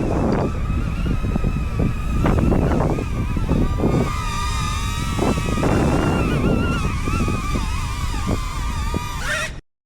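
Strong wind buffets the microphone outdoors during a drone test flight, a loud continuous roar with gusty surges throughout and no speech.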